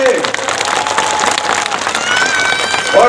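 Crowd at a political rally in Dalu, Meghalaya applauding for Assam Deputy Speaker Numal Momin, steady dense clapping throughout with a loud voice over a public address system on top.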